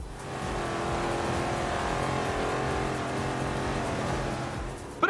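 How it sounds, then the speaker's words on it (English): A muscle car thrashes donuts through a vineyard in Forza Horizon 2, its engine roaring steadily at high revs with tire scrub throughout, loud and close for the whole stretch. "There's nothing like jumping in a muscle car and thrashing donuts through a vineyard!"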